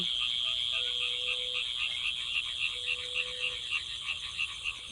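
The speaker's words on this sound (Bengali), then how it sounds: "আর সঙ্গে বড় বড় ব্যাঙ।" Low croaks of large frogs sound now and then beneath a steady, dense chorus of shrill insects at dusk in the rainy season, with no voices.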